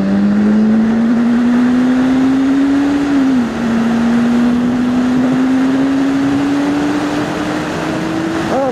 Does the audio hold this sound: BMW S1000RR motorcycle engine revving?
yes